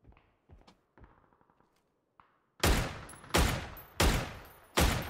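Four loud, sharp Dragunov sniper rifle shots in PUBG ring out about a second apart, each with a booming tail, preceded by quieter clicks and handling thuds from the weapon.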